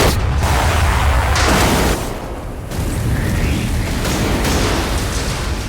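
A time machine explodes in a science-fiction film with a loud, dense roar and booming rumble that carries on for several seconds. The roar dips briefly partway through, then swells again.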